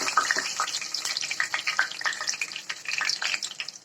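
Mustard seeds, urad dal and curry leaves crackle and sputter in hot oil for a nellikai (gooseberry) pickle, a dense, close stream of sharp pops and sizzling hiss with no talk.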